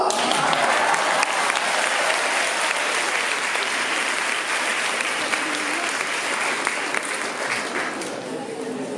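An audience at a conference on vaccines at an organic trade fair applauds the speaker, steady dense clapping throughout that tapers slightly toward the end, with no voices over it.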